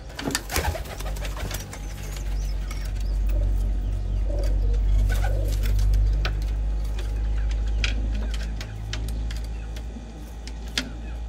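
Pigeons coo repeatedly inside a loft, their soft throaty calls rising over a steady low hum, with scattered wing flaps and sharp clicks from nearby birds.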